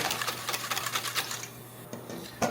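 A whisk beats a cinnamon egg mixture in a bowl with fast, rhythmic close-up clicking and scraping, steady at first and then a few separate strokes.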